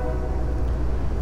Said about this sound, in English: Oh my god, this train.